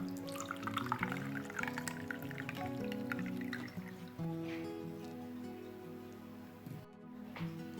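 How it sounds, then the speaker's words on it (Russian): Linden tea is poured from a pot into a cup, a soft steady trickle and splash rising in pitch as the cup fills, with faint room noise behind. "Наливаем себе чай."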